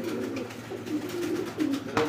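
Pigeons at a bird market coo softly in a few low, repeated calls, faint and fairly close, with a little background murmur.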